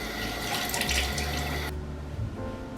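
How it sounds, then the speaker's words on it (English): Tap water runs steadily into a sink while a face is washed with a water-based cleanser. The splashing is close and continuous and cuts off abruptly near the end, leaving a quieter hiss. "I use my water-based cleanser to wash my face"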